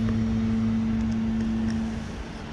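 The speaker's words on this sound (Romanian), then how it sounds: "și bărcuța acum accelerează, uite, vezi, ca să treacă repede" A boat leaving a town harbour speeds up, its engine a steady low hum with a tonal drone that fades slightly toward the end, faint and somewhat distant with no talk.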